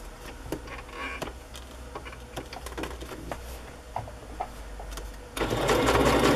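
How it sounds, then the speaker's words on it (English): A sewing machine stitches paper card pieces together with a fast, steady mechanical whir and clicking, close by, then surging louder and harsher in the final second. "So I'm just going to sew these together right now."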